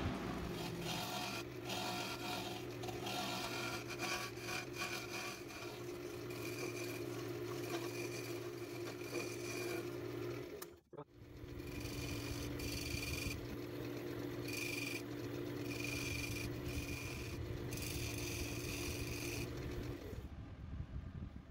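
Woodturning the edge of an epoxy resin and cedar pot on a lathe: a steady, loud scraping hum with continuous tonal drone, briefly cutting out near the middle before resuming until the end.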